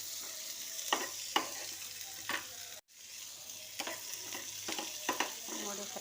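Drumstick (moringa) pods fry in hot oil until golden, giving a steady close sizzle broken by several scraping stirs of a spoon in the pan.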